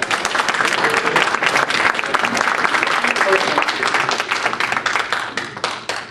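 Audience applause fills a Republican candidates' debate hall for Illinois's 12th district, loud and steady throughout, with dense overlapping claps and a crowd murmur underneath.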